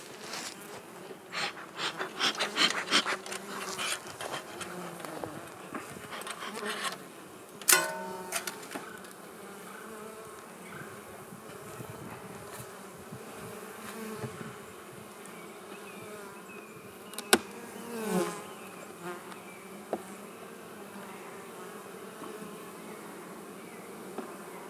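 Honey bees buzzing around an opened hive during queen rearing, a close, dense hum with bees darting near, plus occasional sharp clicks and knocks of frames being handled.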